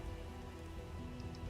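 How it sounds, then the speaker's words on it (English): Steady rain falls in the video game Skyrim, a constant soft patter and hiss with no voices, heard briefly. "It's raining."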